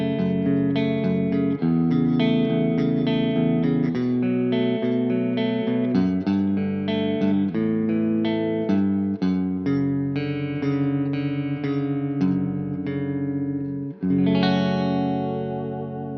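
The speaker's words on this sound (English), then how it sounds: "This is spring reverb in this, it's not digital" Electric guitar played through a Marshall Studio JCM900 amp with its spring reverb turned right up, sustained chords and ringing notes washing together in a loud, continuous, reverberant tone with a fresh strum near the end.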